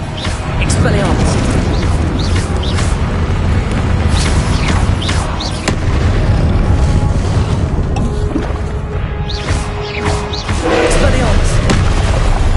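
Expelliarmus spell being cast in the video game Hogwarts Legacy, with booming magical bursts over a loud, continuous wash of combat effects and rumble throughout.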